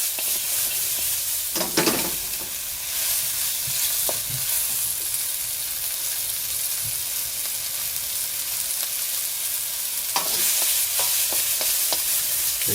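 Oyster mushrooms stir-fry in oil in a wok with a constant bright sizzle, punctuated by a few sharp tossing clatters and scrapes near the start and again near the end.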